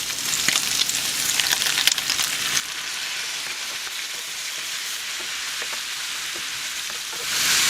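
Pork belly frying in a pan with onions and kimchi, with a loud crackling sizzle that drops to a gentler, steady hiss after a few seconds and then rises again near the end, with no talking.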